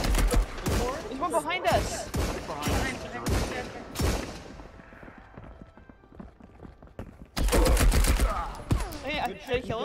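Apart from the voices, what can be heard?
gunfire in the video game Marauders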